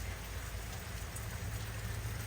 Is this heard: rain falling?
yes